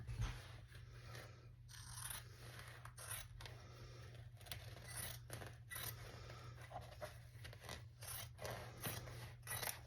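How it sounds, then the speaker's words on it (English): Scissors cutting through folded fabric for a small pouch, a series of close, crisp snips at an uneven rhythm over a low hum. "so now I'm gonna cut it"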